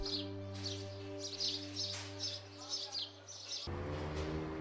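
Sparrows in Delhi chirp in quick repeated bursts over a steady low mechanical hum that cuts out near the end, the tweets fairly close and clear.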